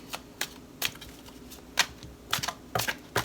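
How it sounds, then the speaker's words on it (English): Tarot cards are shuffled by hand in a series of sharp, close riffling bursts, roughly eight quick flicks at uneven intervals with quiet gaps between. "let me go ahead and shuffle these for you"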